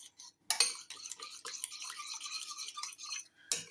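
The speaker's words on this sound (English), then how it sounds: "we'll stir it with a spoon, won't we?" A spoon scrapes and clinks against the inside of a cup while instant soup is stirred, a quick scratchy rhythm of close, moderately loud strokes with short pauses, and no talking.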